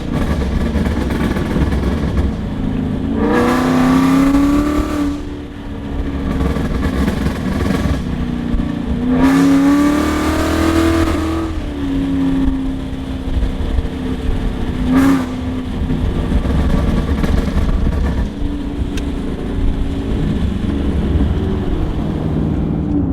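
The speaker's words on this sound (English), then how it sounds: "I put it in sport, I'm gonna hit it real hard, it's gonna downshift," A 2019 Ford Mustang GT in sport mode revs hard in loud rising engine bursts with downshifts, a steady exhaust rumble running throughout between three distinct pulls, the last one short and sharp.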